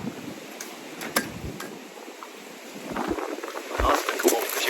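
Wind blows outdoors at a deck construction site, giving a steady broadband rush with gusts that buffet the microphone, rising toward the end, along with a few scattered ticks.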